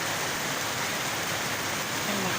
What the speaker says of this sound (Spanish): Vemos que está lloviendo fuerte.